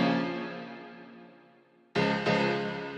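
Piano with a retro vinyl effect, distortion and reverb: a sustained chord slowly decaying, then two fresh chords struck near the end, warm and close, no talking.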